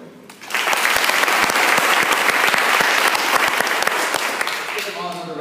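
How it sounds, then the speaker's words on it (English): An audience applauds students after a fourth-grade Florida history presentation, with dense, loud, close clapping that starts abruptly, holds steady for about four seconds and then fades as a voice begins. "Give them all another round of applause"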